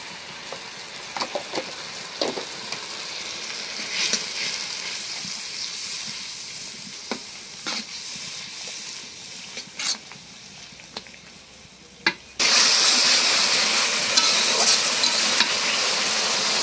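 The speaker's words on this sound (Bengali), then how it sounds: "ভালো করে কষাই নিলাম।" Turmeric, chili and coriander powders for a katla fish head muri ghonto are sautéed in a pan, with scattered spoon scrapes and light sizzling, then a sudden loud, steady sizzle for the last few seconds.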